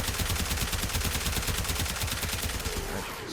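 Fulmin rifle firing in Warframe, a rapid sustained burst of evenly spaced electric shots at close range, loud and rhythmic, ending abruptly near the close.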